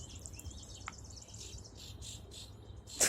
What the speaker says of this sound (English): Yeah, I hear that bird singing.